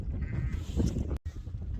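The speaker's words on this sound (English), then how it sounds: "There's 630 odd ewes here" A mob of roughly 630 ewes bleating continuously at close range as they move, overlapping calls forming a dense, steady chorus with a brief gap near the end.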